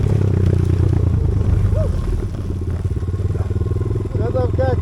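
A motorcycle travelling by road on a round-the-world trip, its engine a steady close drone throughout, with road clatter and brief tonal chirps near the end.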